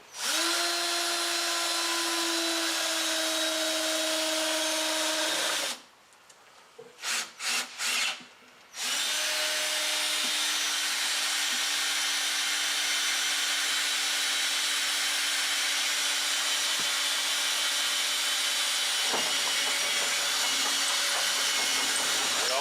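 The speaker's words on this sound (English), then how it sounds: "There's no vertical rib, and so we're going to drill this hole." A power drill runs loudly with a steady whine, stops briefly for several short on-off bursts, then drills on continuously until the end.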